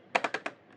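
Four quick, evenly spaced keystrokes on a computer keyboard tap out close and clear, followed by a couple of fainter clicks.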